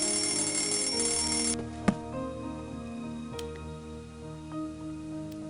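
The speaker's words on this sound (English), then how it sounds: "That ticking noise was indeed not there before." A clock ticks in Nancy Drew: Stay Tuned for Danger, with sparse, sharp ticks over a sustained tonal hum after a bright ringing tone cuts off.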